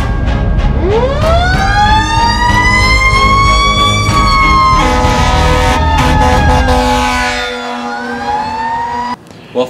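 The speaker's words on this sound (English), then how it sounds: "We're gonna turn the lights and sirens on." The siren of Platteville Gilcrest Fire engine 3602 switches on close by and rises into a loud, sustained wail, then shifts to a faster warble before cutting off near the end.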